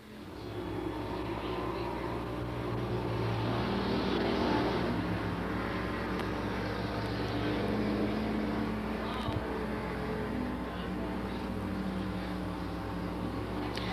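Street stock race cars in a 1993 race at Freedom run down the main straightaway as a continuous, somewhat distant engine roar that swells and eases slightly as the field passes.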